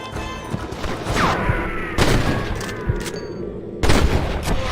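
Gunfire in a Red Dead Redemption shootout: several sharp shots ring out a second or two apart, each cracking loudly and echoing over a busy background of other shooting.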